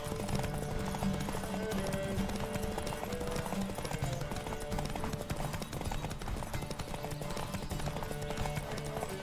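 Rapid, rhythmic hoofbeats of a galloping horse in The Witcher 3: Wild Hunt – Blood and Wine pound continuously, loud and close, with a bright, game-like mix.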